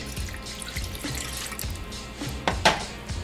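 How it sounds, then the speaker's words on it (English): Water pours from a cup into a pot on a kitchen stove, a steady splashing run that briefly grows louder near the end, with no voices. "So first we're going to put in a cup of water."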